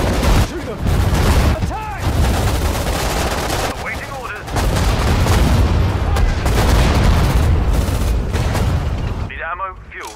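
Machine gun fire in the WWII strategy game Sudden Strike 4, North African desert campaign: continuous loud rattling bursts with heavy booms mixed in, running almost without pause, while voices speak over the din.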